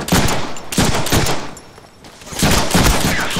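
Gunfire in the Deadpool video game: loud, dense bursts of rapid shots, close up, broken by a short lull before another burst.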